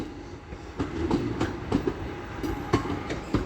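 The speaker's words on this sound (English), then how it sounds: "the next train to be coming in will be a Class 323 for Northern, 323227 from Manchester Piccadilly" A Northern Class 323 electric train at Stoke-on-Trent station, moving at a distance as a quiet rumble broken by a series of evenly spaced clicks from wheels crossing rail joints.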